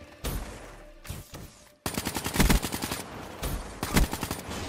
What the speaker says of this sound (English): I'm using the good old KN44 now